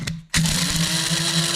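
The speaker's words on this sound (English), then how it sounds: "I use this old coffee grinder because it works extremely well for me" An old coffee grinder pulverizing dried meat gives off a loud, steady whirring buzz with a low motor hum. It stops briefly near the start, then runs on continuously.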